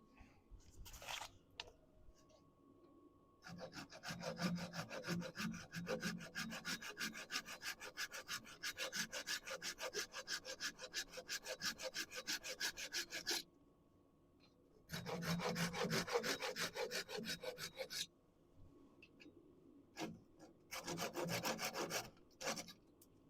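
A piece of wood is cut off by hand with a saw during woodturning, giving long runs of steady rasping back-and-forth strokes with a few short pauses between bursts.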